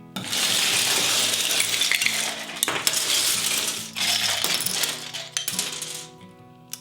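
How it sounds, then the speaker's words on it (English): Plastic Lego bricks tumble and clatter into a plastic storage container, a dense rattling cascade of small hard pieces that pours steadily for several seconds, eases briefly, then resumes and trails off. "So I'm going to go ahead and put my Legos inside of my container."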